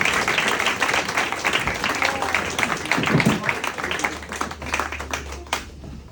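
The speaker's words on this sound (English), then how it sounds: "give them a round of applause." Applause for Kevin and Dave at a club presentation, uneven close clapping from a modest crowd with some talk underneath.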